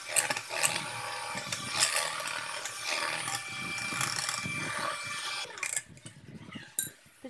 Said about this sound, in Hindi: ब्लेंडर से ब्लेंड कर देंगे ताकि ये जल्दी से इसमें अच्छे से मिक्स हो जाए।